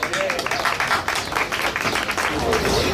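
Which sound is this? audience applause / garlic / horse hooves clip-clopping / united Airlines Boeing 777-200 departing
audience applause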